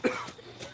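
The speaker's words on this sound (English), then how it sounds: "That coughing better be from a popcorn kernel" One short, sharp cough from a cartoon pony in an animated episode, followed by a faint throat-clearing rasp.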